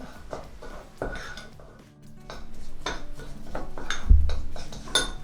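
A spoon stirring a marinade of oil and seasonings for grilled crispy pork belly, with clinks and scrapes against a bowl in uneven bursts, a sharper knock near the end, close and moderately loud.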